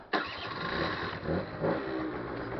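A modified moped engine starts up sharply and runs steadily, its mid-pitched buzzy drone loud and close, with slight rises in pitch as it revs.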